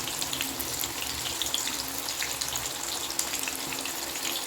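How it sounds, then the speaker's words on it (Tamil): Raw plantain slices frying in hot oil for crispy chips, a steady dense crackling sizzle running evenly throughout with no speech. "நம்மளோட வாழைக்காய் வந்து நல்லா சூப்பராக வெந்துக்கிட்டு இருக்குது"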